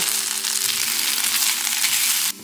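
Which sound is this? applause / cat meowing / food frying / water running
food frying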